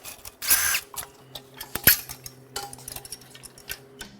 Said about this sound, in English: Lastly, we can unbolt the clamps.